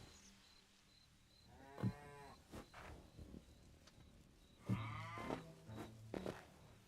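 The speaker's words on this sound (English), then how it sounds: "Okay, that is definitely a cow." Cow mooing in the video game Hytale, two drawn-out low moos several seconds apart, fairly faint against a quiet ambient background with no talk.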